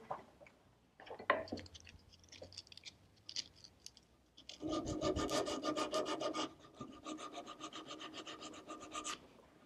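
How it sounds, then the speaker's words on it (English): Sandpaper rubbing over rough wood on a chair arm makes close, raspy scraping strokes. Short bursts come first, then a steady stretch of quick back-and-forth rubbing, with no speech. "we'll just clean that up with some sandpaper"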